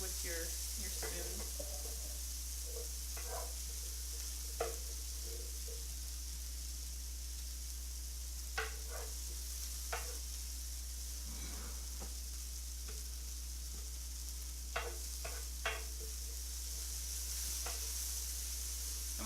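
Sweet potato sizzles and fries steadily in a pan over medium-high heat, with occasional soft scrapes and taps as a spoon stirs it, sounding close and continuous with no talking.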